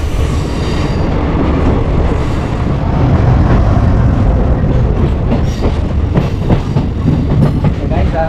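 The Radhikapur Intercity Express pulls out of Dalkhola station, a loud continuous rumble of rolling rail cars with rhythmic clickety-clack over the joints and occasional squeals from the wheels, heard close from inside a carriage.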